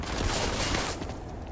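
Rapid gunfire in the Starfield video game, a dense, continuous burst of shots that sounds muffled, as if coming through a wall, lasting just over a second with no one speaking.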